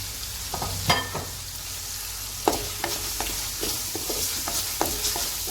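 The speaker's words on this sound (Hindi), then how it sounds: "अब इसी तरह से हम मसाले को भून लेंगे।" Masala with fried onions cooks in a pot for egg dum biryani, a soft steady sizzle under scattered scraping and stirring clacks of a spoon against the metal, close and fairly quiet.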